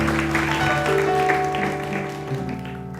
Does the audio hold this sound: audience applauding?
yes